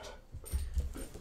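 An indoor dog whimpers and gives a few soft, muffled yelps in quick succession, fairly quiet and close by, with no speech over it.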